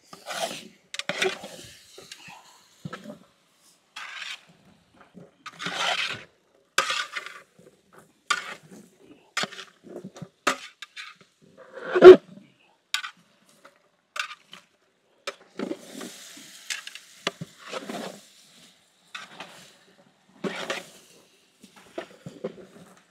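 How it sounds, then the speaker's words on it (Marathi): Spices are stirred into village-style pumpkin curry in a pan, heard as sparse, quiet scrapes and rubs of a spoon against the vessel, coming in short irregular strokes with pauses between them. "मसाले व्यवस्थित आपण मिक्स करून घेऊ।"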